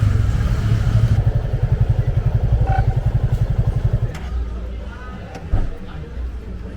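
A motorcycle ride through a favela, the engine's rapid pulsing throb close and steady, then easing off, with voices and street noise around it.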